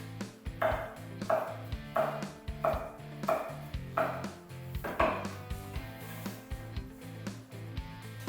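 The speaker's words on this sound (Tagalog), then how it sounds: "hinihiwa ko lang ito ng maliliit" A knife chops pork into small pieces on a cutting board in an even rhythm, about one strike every half second, close up over a low background hum.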